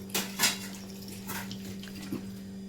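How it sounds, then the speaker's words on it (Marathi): Two bowls of water are poured into a pressure cooker holding dal, giving short splashy gushes near the start and again midway, over a steady low kitchen hum. "2 वाट्या पाणी आपण त्याच्यात ओतून घेऊ"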